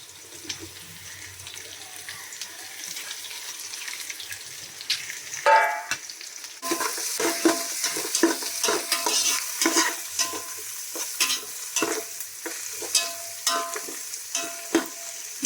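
Onion, green chilli, crushed garlic and curry leaves sauté in a pan for tomato rice, a quiet start giving way to steady close sizzling broken by frequent stirring scrapes and clinks.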